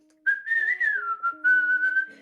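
A person whistles a jaunty, wandering tune, imitating a carefree warehouse supervisor strolling with a clipboard; the melody is close and clear, running in continuous phrases with brief breaths between them and nothing else heard.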